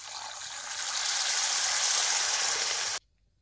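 Water is poured steadily into a tawa of frying pavta beans on an outdoor earthen stove, a close, full gushing rush lasting about three seconds before it cuts off abruptly into near silence.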